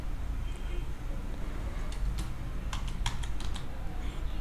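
Someone types on a computer keyboard, a short burst of light, quick key clicks toward the end over a steady background hiss.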